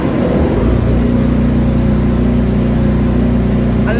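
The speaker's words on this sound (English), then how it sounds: "So this is how my compressor is working." A ship's main air compressor runs loud and close, a heavy, steady low-pitched mechanical rumble with a rhythmic pulsing throb underneath and no talk.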